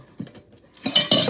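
Glass drinking straws clink together, a few soft taps and then two brighter, louder ringing clinks close by.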